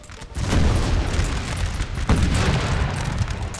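Cannons fire canister shot in the Napoleon: Total War video game, heavy booming blasts rolling together into a dense, loud barrage with a sharp burst just past the middle.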